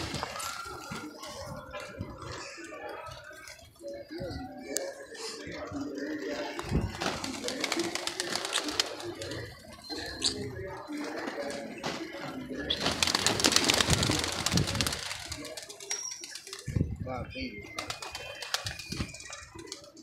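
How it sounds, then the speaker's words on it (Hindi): Pigeons coo in a loft or rooftop setting, repeated soft throaty calls from several birds, with wing flutters and scuffs as a hen pigeon lands; someone talks intermittently underneath. "एक कबूतरी और उतरी है"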